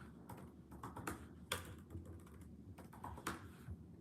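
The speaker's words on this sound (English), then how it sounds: "Me aggressively typing." Rapid, aggressive typing on a computer keyboard, uneven bursts of key clatter with a few harder strikes, close and fairly quiet over faint room hiss.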